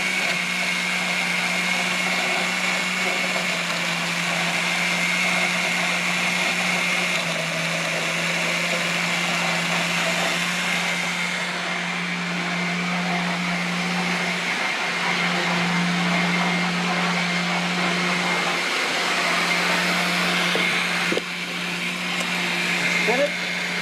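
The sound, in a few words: blender blending black grapes fruit smoothie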